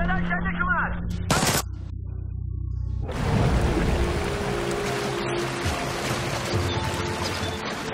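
Gunfire in the stealth shooter Splinter Cell Blacklist: one sharp, loud shot stands out early, followed by a noisy, sustained stretch of action sounds, with voices talking through part of it.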